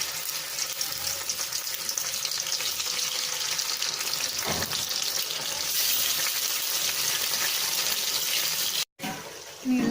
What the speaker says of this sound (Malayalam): ഓയിൽ നന്നായി ചൂടായി വന്നിട്ടുണ്ട്. അതിലേക്ക് നമുക്ക് ചിക്കൻ ഓരോന്നായിട്ട് ഇട്ട് കൊടുക്കാം.